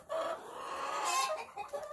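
Chickens and roosters cluck and squawk in a dimly lit farm coop holding around a hundred hens and several roosters, a close, busy jumble of calls with one brief crow-like rise.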